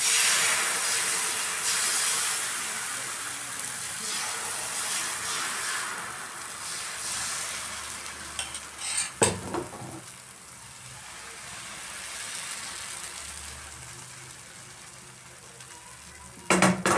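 Dosa batter made from wheat flour sizzles on a hot oiled griddle, a steady broad hiss that holds throughout and eases slightly midway, with a few brief clatters of a utensil near the pan.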